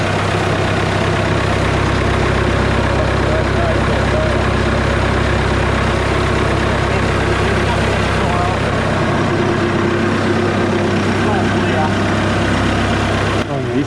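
A huge wood chipper's engine roars steadily at high revs, loud and continuous with a deep low-end rumble throughout, while someone talks over it.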